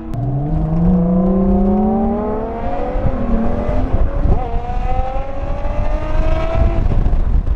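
Ferrari Monza SP1 engine accelerating hard from inside the open cockpit, loud rising revs climbing through several gears with brief shift dips, strong throughout with wind noise.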